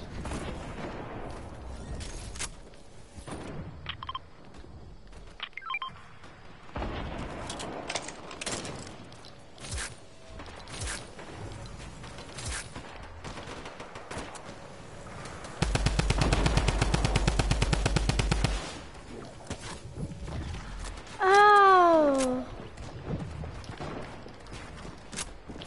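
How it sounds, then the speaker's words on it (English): Video game gunfire crackles through the scene in scattered bursts. A longer, louder automatic volley rattles out midway, and a rising whine-like sound follows near the end. "Guns."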